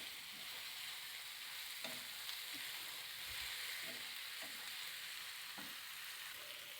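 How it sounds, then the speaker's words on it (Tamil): Dried anchovies and onion fry in a hot pan with a steady, loud sizzle, broken by scattered clicks and scrapes from stirring throughout. "கருவாடை நல்லா வதக்கணும்"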